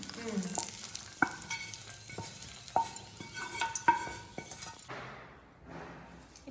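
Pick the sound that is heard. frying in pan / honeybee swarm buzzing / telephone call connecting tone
frying in pan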